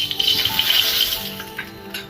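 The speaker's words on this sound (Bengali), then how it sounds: "তো চলো এবারে একটু সর্ষে ফোড়ন দিই" Mustard seeds tempering in hot oil for a Bengali sour fish dish give a brief, busy crackle and light rattling spatter, close and moderately loud.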